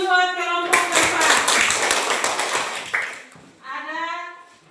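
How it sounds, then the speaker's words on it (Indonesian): A classroom group claps for a front group of students, a dense burst of hand claps lasting about two seconds, with talk before and after. "tepuk tangan buat kelompok depan"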